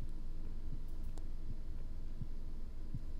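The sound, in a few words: heartbeat sound in the video game The Cat Lady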